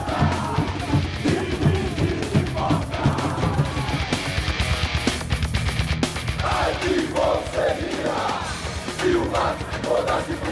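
Palmeiras football supporters protesting, a large crowd yelling and chanting loudly and continuously, with rhythmic shouted bursts and crowd roar building over about ten seconds.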